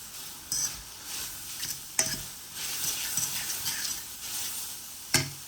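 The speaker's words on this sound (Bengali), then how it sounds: "এখন আমি এটারে একটু লাড়াই সাড়াই লই।" Noodles with egg stirred in a frying pan, a steady sizzle under scraping and stirring strokes, with a few sharp utensil clacks against the pan.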